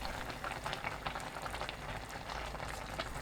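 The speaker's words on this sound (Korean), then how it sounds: "뚜껑 닫고 약불로 20분 익힙니다" Braised sand lance and aged kimchi simmer in a covered pot over low heat, giving a steady, close bubbling and gentle spluttering with no pauses.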